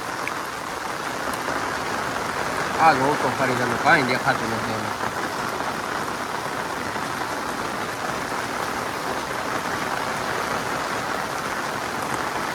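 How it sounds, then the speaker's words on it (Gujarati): Heavy downpour pours steadily over the Gir forest, a dense hiss of rain with someone speaking over it throughout. "વરસાદ બાકા કે બોલાવી દીધો ભાઈ"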